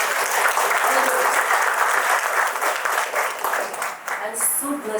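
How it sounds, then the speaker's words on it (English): A crowd at a book launch claps loudly and steadily for several seconds for the elders present, the applause thinning slightly toward the end. "So can you give a big round of applause for all these elders?"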